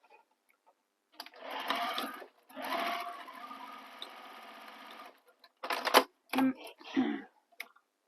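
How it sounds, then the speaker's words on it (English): Sewing machine stitching over the bottoms of a handmade bag's handles for reinforcement, running in two long steady bursts followed by several short choppy runs, close and alone. "I'm going to stitch over where the bottom of the handles are, just for some extra security there in that area"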